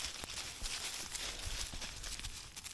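Goats mill around a hiker in an open ridgetop field on the Appalachian Trail, giving soft, irregular hoof steps and shuffling on the ground at close range over a faint outdoor background.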